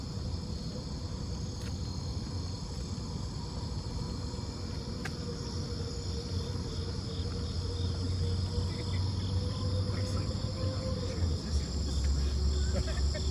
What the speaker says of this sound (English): Really hear all the crickets and things like that.